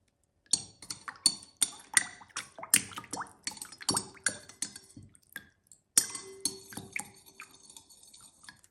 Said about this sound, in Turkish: Bir tatlı kaşığı kadar karbonatı suyun içerisine koyup karıştırıyorum.